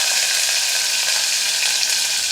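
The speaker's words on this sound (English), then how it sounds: "we're going to throw olive oil into a hot pan" Minced sweet red pepper sizzles and fries in hot olive oil in a pan, a steady close hiss of bubbling oil with no talking.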